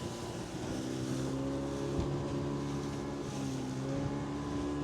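A boat engine drones steadily on the water in Chittagong harbour near large ships and oil tankers, a constant low rumble with wind noise throughout and no talk.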